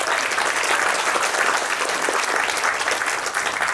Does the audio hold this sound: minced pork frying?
no